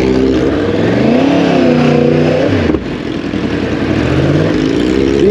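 A 2023 Yamaha MT-10 motorcycle engine revs up and down nearby, rising and falling in pitch with a brief dip in the middle before climbing again, loud and raw.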